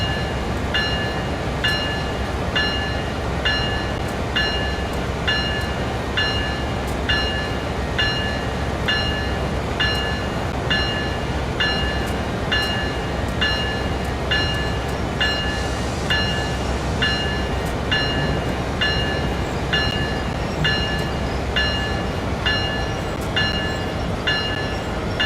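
A train runs along the track in Train Sim World 5, a loud continuous rumble with a regular clickety-clack of wheels over rail joints, steady throughout.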